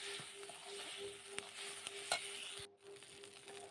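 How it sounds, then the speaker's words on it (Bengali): A spice paste of garlic, onion, ginger, cumin and coriander with turmeric, salt and chili fries in oil for a tangra fish curry, giving a quiet steady sizzle with a few soft stirring taps, close and without talk. "ভালো করে মশলাটা কষিয়ে নেব একটু"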